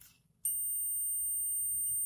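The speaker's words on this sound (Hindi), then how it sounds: "बीप साउंड दे रहा है" A digital multimeter set to diode test mode gives a single steady, loud continuous beep that starts abruptly and holds without break, while testing a diode in a Philips 193V5L LCD monitor with a no-power fault.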